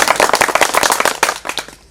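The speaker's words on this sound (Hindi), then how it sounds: "एक बेर सब गोटे दुनू हाथ से ताली ताली ताली हमरा लेल मारि" Live audience at a Maithili nach party dance show clapping hands, dense rapid claps in an uneven burst that thins out and fades toward the end, close and loud, with no talk.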